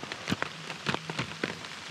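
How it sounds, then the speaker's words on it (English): Heavy rain pours down in Pennsylvania, drumming close and steady with a dense hiss broken by sharper, irregular spatters of drops striking a surface, with no voices. "it got raining so dang hard"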